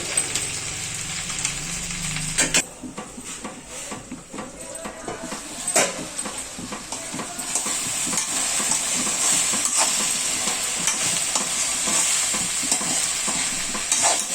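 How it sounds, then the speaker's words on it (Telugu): Okra frying in a pan for curry, a steady close sizzle with scraping stir strokes running throughout, loud and continuous after a brief shift near the start. "ఇది కొంచెం వేగాలి కొంచెం వేగాలి"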